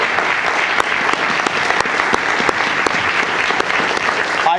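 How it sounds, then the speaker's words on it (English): Audience applause at a county and YMCA grant announcement as teachers and school staff stand, a sustained wash of many hands clapping with sharper individual claps popping through, steady and fairly loud throughout. "Let's give them a round of applause."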